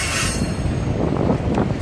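A freight train rolls past close by, its wheels squealing loudly and continuously against the rails over a dense rumble of railroad cars, with no talking.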